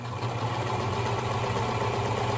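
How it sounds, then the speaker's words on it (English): Sewing machine stitching fabric for a scrunchie, a steady close-up motor whir with an even mechanical hum that runs unbroken throughout. "I'm gonna start sewing"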